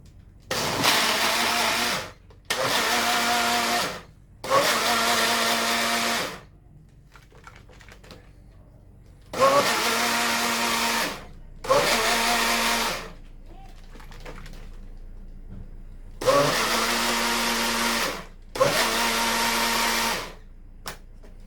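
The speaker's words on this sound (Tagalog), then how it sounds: "Ito guys, nag-blender na yung vitamins natin." A countertop blender whirs through a vitamin drink in loud bursts of about two seconds each, seven pulses in all with short pauses between them, close to the microphone.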